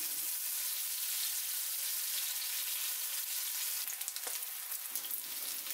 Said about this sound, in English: And fry until it gets a nice brown color on the outside.